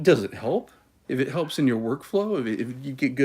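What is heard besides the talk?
None of the usual background noises is heard.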